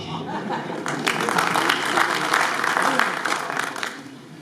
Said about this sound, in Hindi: यार ताली बजा रहे हो